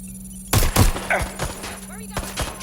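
Gunfire in Watch Dogs Legion: a sudden close burst of sharp, loud shots, followed by scattered single reports over a low steady hum, with a brief voice in between.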